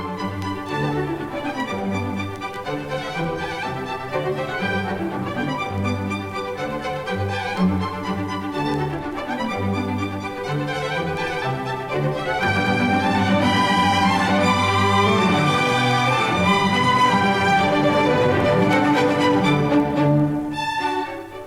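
An orchestral string section of violins, violas, cellos and basses plays continuously for about twenty seconds, bowed and scraped lines layered densely, growing fuller and louder in the second half, with no voices.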